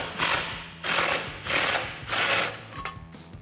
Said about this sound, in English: Grab your 15mm socket. And you may want a swivel for this top one.